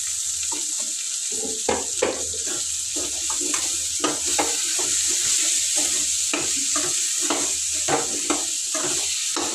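Drumstick pieces drop into a pan of sizzling tomato masala and get stirred, with a steady frying hiss and irregular clunks and scrapes throughout.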